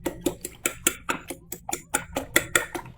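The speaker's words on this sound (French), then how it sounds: "Avec une fourchette, je vais bien mélanger ces œufs pour paner les blancs d'œufs durs" A fork whisks three eggs on a plate in a steady, quick rhythm of about fourteen sharp metallic clinks against the dish, close and clear with no talking.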